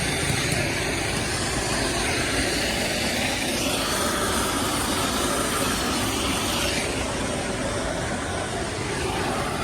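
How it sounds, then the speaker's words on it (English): A train at an engineers' historical association show rolls past in a dense, continuous rumble and clatter, loud and close from start to finish with no talk. "train."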